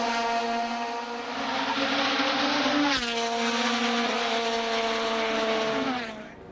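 A race car in an Asian touring car series round at Sepang circuit crosses the finish line, its engine loud and close with a sustained harmonic whine that shifts pitch partway through, then tapers off as it passes.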